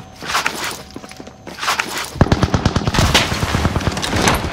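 Large-caliber automatic gunfire in a video game, rapid loud bursts building into sustained fire, with scattered earlier shots and footsteps.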